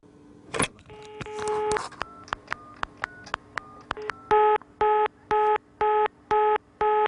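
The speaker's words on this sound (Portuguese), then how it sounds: "Eu também liguei para o telefone de atendimento do INTO hoje à tarde." Telephone keypad tones beep one by one while dialing a hospital helpline, followed by a series of regular evenly spaced ringback or busy tones, clear and close with no talk.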